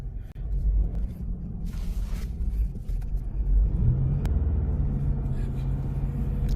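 A Ford Ranger Raptor engine rumbles steadily and its pitch climbs as it accelerates, heard from inside the vehicle, with a brief rise in loudness midway.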